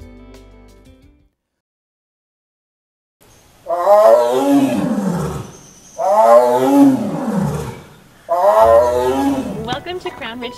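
Big cats at a tiger sanctuary and rescue facility let out three long, loud, close roars spaced a few seconds apart, each rising and then falling away, after a brief stretch of silence.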